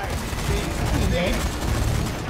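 Rapid gunfire bursts rattle in a Minecraft-style video game, a dense, loud fusillade of shots running continuously under excited voices talking over the play.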